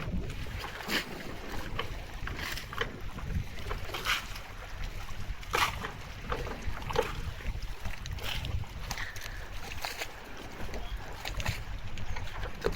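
A boat out on windy water off Northport, Long Island, with steady wind rumble and water wash across the whole stretch and no talking.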